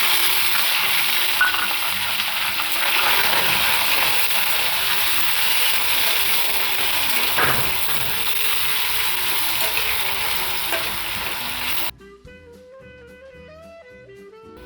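Pieces of bottle gourd hit a hot oiled pan and sizzle loudly and steadily for about twelve seconds, close up, before soft music takes over.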